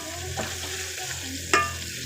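Chicken skin frying in a pan until crispy, a steady close sizzle with light stirring and a sharp clink of a utensil near the end.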